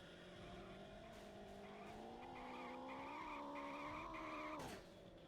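A car in the video game TimeSplitters Future Perfect drives with a steady, rising engine drone and a whining tire skid, ending in a short sharp cutoff. It plays loud and alone, with no talking over it.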